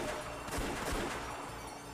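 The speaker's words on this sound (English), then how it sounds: "They heard gunfire from down the hallway." Gunfire sound effect from the visual novel Umineko: When They Cry, a short burst of several rapid shots sounding distant and fairly quiet, with nobody talking.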